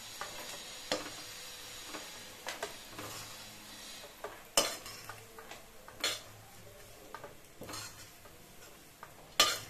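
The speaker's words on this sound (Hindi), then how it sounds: "मैं एक थाली लूंगी और इन सारे दानों को कढ़ाई से बाहर निकाल" Fried besan pieces are scooped out of a kadhai onto a plate with a metal utensil, quiet scraping and stirring broken by sharp clinks of metal on metal at irregular intervals, close and with no talking.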